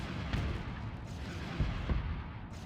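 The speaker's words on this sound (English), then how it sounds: "Timely hits by the ion cannons." Ion cannons fire during a space battle in the Starsector video game, a rumbling barrage of low booms and thuds over a continuous roar, with a few sharper hits standing out.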